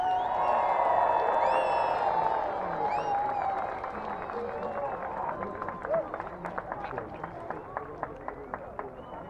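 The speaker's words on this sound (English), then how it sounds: "I want the biggest clap and cheer you could possibly give so we could tell those 9 guys that you enjoyed the display" Airshow crowd at the Eastbourne International Airshow clapping and cheering for the Red Arrows display team: a loud announcer's voice at first, then scattered, distant-sounding applause and whoops from a large outdoor audience building through the clip.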